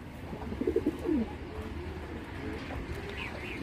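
Racer pigeons give a short burst of close, soft cooing calls early on, then fall quiet against a low steady background hum.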